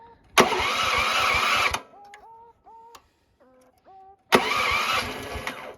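A carbureted 420 cc small engine is started cold in sub-zero weather. Two loud bursts of cranking and sputtering are split by a quiet stretch of faint tonal beeping, all close up.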